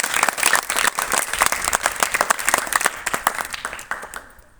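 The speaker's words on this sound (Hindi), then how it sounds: "इनके लिए फिर दोबारा तालियों से धन्यवाद" Village audience applauding at a ceremony honouring a local daughter's NEET success, a dense burst of hand claps close and loud, steady throughout before fading quickly at the end.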